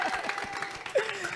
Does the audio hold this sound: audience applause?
yes